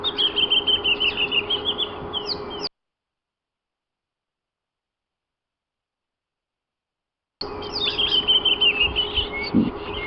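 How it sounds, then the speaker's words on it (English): Wild birds, including drongos, green pigeons and black flycatchers, chirp and call busily in the African bush at sunrise, a dense overlapping chorus of bright twitters with a long silent break in the middle. "There seems to be a really beautiful little bird party going on here."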